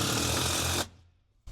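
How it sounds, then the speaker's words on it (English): A power driver runs a screw with a Phillips bit into a pontoon boat seat, whirring loud and steady for under a second before cutting off, then a brief burst starts again. "And then I'm gonna do 2 screws in the front corners."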